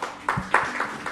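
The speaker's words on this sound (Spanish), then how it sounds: "Gracias por su aporte. Aplauso." A small audience claps after a live interview in Santiago de los Caballeros, Dominican Republic: a few scattered, separate hand claps at a steady, unhurried pace, fairly close and moderately loud.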